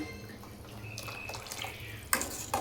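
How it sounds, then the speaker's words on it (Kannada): Water is poured into a pot of sambar being cooked, splashing and trickling softly against a quiet background, with a couple of brief, sharper splashes near the end. "ಅವ್ರಿಗೆ ಎಷ್ಟು ಬೇಕಷ್ಟು ನೀರು ಹಾಕಿದ್ದಾರೆ"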